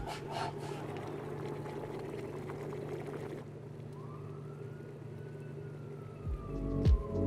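Steady road traffic at a crossroads forms a continuous rumbling wash, with a passing vehicle swelling up loud and close near the end.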